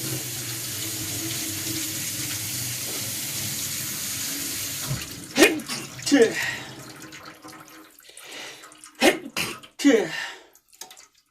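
Vegetables are rinsed under a running kitchen tap with a steady gush of water for about five seconds, then splashes and knocks follow as the tap stops.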